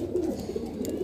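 Pigeons, Saharanpuri and Kaldume flying breeds at a sale in Lucknow, cooing softly in short low murmuring phrases, faint and close, with no talk over them.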